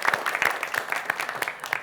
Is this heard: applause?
yes